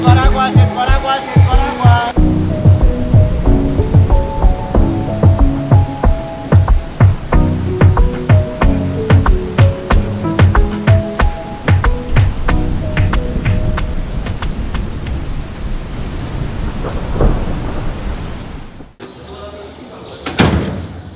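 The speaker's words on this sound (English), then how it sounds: "We ended up having to run through the rain." Heavy rain pours down on a Mexico City street during Independence Day, a dense steady patter with sharp knocks. It mixes with music, voices and crowd noise until it drops away near the end.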